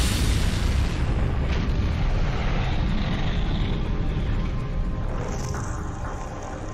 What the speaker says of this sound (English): the massive explosion engulfs the neighborhood and rises more than 300 feet into the air